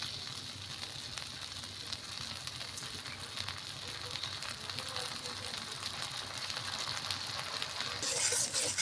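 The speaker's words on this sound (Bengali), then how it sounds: "ফেটানো এই চালের গুঁড়ি আর সসটা আমি তেলের উপরে দিয়ে দিব" Beaten rice flour batter and sauce frying in hot oil, a steady close sizzle and crackle running evenly throughout with no talking.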